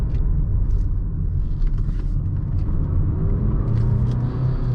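Steady low engine and road rumble inside a 2020 Mazda CX-5 SUV taking a corner, with a constant drone and faint tire noise and no talking.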